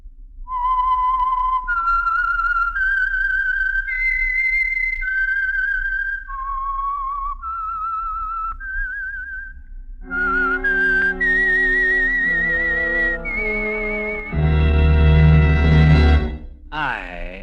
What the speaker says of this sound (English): the signal to listen for is this whistle that identifies the Signal Oil program, The Whistler